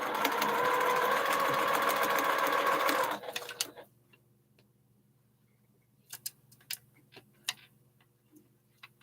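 A sewing machine stitches flying geese quilt blocks in a loud steady run of about three seconds that stops abruptly, followed by quiet with scattered light clicks and taps.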